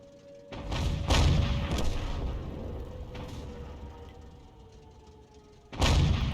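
Tank cannon fire in a World War II tank video game featuring a Hummel and GW Panther: two heavy booming shots, one early and one near the end, each with a long rumbling decay.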